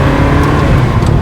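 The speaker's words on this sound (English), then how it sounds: "I'm giving it a little gas before I complete the shift." A Ferrari 360 or 430 with a single-mass flywheel and manual gearbox revs steadily as gas is blipped mid-shift, a loud, close engine drone filling the whole moment with no speech over it.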